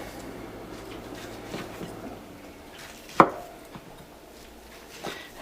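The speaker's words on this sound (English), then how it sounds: "And then what we're going to do is slice them about a 1/2 inch" Knife cutting salami on a cutting board for Puerto Rican salami soup, a few soft scattered knocks with one sharp loud chop near the middle and another toward the end.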